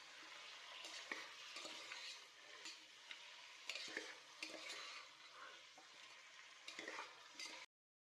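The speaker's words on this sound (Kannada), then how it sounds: "ಕುಕ್ಕರ್ಗೆ 2 ರಿಂದ 3 ಸ್ಪೂನ್ ಎಣ್ಣೆ, ಹಾಗೆ ಸ್ವಲ್ಪ ಈರುಳ್ಳಿ ಹಾಕಿ ಬಾಡಿಸಿ ಅದಕ್ಕೆ ಚೆನ್ನಾಗಿ ತೊಳೆದಿರೋ ಚಿಕನ್ ಹಾಕಿ ಫ್ರೈ ಮಾಡ್ಕೊಳ್ಳಿ" Chicken and onion frying in a few spoons of oil inside a pressure cooker, giving a steady bright sizzle with repeated scraping stir strokes at close range, no voices, ending abruptly.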